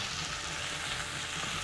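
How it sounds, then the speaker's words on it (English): Potatoes fry in a pan for aloo posto, a dense, steady sizzle that fills the whole short stretch with no voices. "we've got a little bit more time frying the potatoes."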